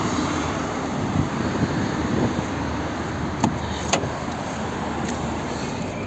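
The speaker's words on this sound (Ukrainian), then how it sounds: "Зараз подивимося, ще як працює двигун." A 2010 Volvo V50 facelift's 1.6 HDI diesel engine idles steadily with a constant droning rumble, a few sharp clicks and knocks popping out over the running motor.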